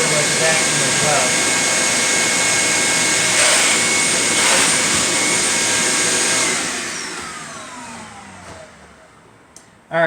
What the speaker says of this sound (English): you want to make sure that you actually get down in here with the vacuum as well.